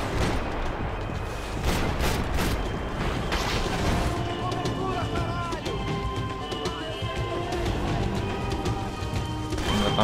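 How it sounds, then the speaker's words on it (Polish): A boat blows up during a gunfight in Max Payne 3. There is a crashing burst, then rumbling debris and water over continuous battle noise. "Tam chyba łódź wybuchła."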